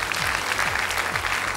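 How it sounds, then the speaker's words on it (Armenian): Audience applause at a Hay Superstar gala show: dense, steady clapping from a large crowd, loud and continuous throughout with no voices over it. "Շնորհակալություն, ծափահարությունը"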